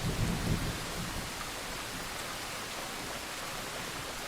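Steady, dense rain hisses evenly throughout, with a low rumble of thunder rolling at the very start before fading into the constant downpour; no voices.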